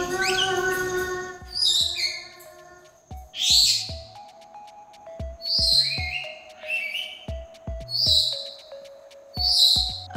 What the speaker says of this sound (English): Birds kind of like to match their flock calls.